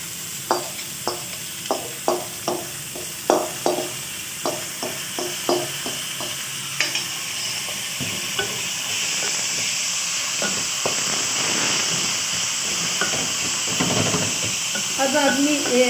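Sliced onion for a bitter gourd dish fries in a pan, opening with a run of regular scraping strokes from stirring before settling into a steady, close hiss and sizzle, with no talking.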